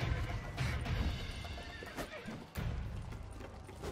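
Hooves clip-clop steadily alongside a horse's neighs and whinnies in the Witcher 3: Blood and Wine video game, with a busy, continuous game soundscape around them.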